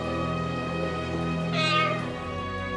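A pet parrot imitates a cat's meow, a single drawn-out, tonal mew that rises in the middle and then fades, sounding close and clear over a steady background hum.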